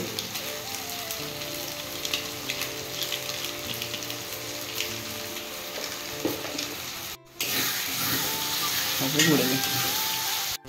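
Desi chicken fries in oil with masala in a pan, giving a dense, continuous sizzle with occasional stirring scrapes and spatters, close and steady, with a brief interruption partway.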